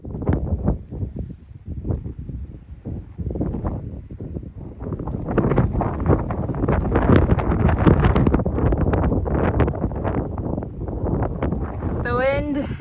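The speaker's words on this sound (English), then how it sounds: "The wind is definitely much worse today." Strong wind gusting across a hiking trail on the Pacific Crest Trail, a steady roaring buffet against the microphone that builds and stays loud throughout, with a person talking over it.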